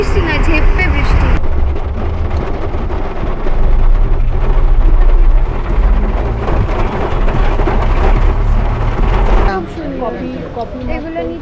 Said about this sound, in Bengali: আউট অফ নোওয়্যার বিভৎস বৃষ্টি এসে গেল হুট করে একদম